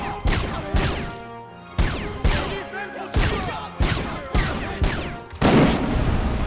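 A Tech 9 submachine gun fires in RoboCop: Rogue City in a string of sharp, loud bursts of rapid shots, each echoing briefly before the next volley, spread steadily across the stretch.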